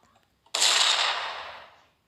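A single sharp video game explosion bursts out after a moment of near silence, then its noisy rumble fades away over about a second and a half.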